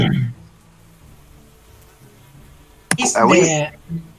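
Mosquitoes buzzing over a swamp: a low rumble fades into near-silence, then a sudden loud, wavering buzz bursts in close and lasts about a second before trailing off.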